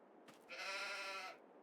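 A single sheep bleat in Farming Simulator 22, short and wavering, sounds once at low volume against a quiet background, with no one speaking.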